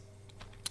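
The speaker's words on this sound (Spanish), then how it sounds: "Presionen la tecla Tab, salta al siguiente campo" A few soft, quick clicks from keys being pressed on a computer keyboard, with the last tap slightly sharper, in a quiet room.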